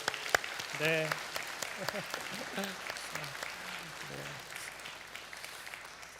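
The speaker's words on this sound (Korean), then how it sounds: "큰 박수로 축복했으면 좋겠습니다" A church congregation gives a round of applause for the mothers on Mother's Day: a burst of many hands clapping that gradually fades, with a voice speaking over it near the start.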